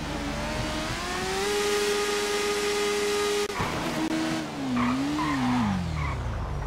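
Car in GTA V accelerating hard, engine pitch climbing steadily, a brief cut at a gear change, then rising and wavering again with tire squeal, loud and close, no speech.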